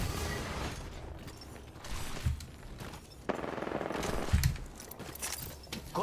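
Gunfire from another squad in the battle royale game Apex Legends, with bursts of rapid shots and mechanical clatter at moderate distance, fairly dense and continuous over a busy game-sound background.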